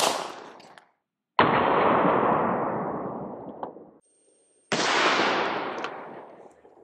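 Two loud rifle shots from a Polish rifle firing Tula 7.62 steel-case rounds at an outdoor range, each a sharp crack with a long rolling echo that fades over a few seconds.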